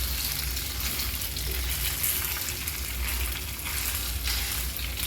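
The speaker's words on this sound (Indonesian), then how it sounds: "Masukkan daging babinya, kita tumis sampai dia matang." Pork being stir-fried in a pan for wintermelon soup, a steady broadband sizzle with faint scraping running throughout, close and fairly loud, with no talk.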